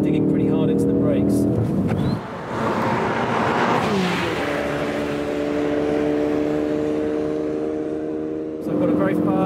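A Ford Focus RS driven hard on a racetrack: a loud, close engine roar climbs through the revs, dips briefly at a gear change and then pulls strongly again, with a voice talking over it.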